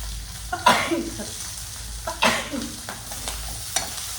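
Cabbage and beans fry in a pan, a soft steady sizzle broken by a few scraping stirs of a spatula at close range.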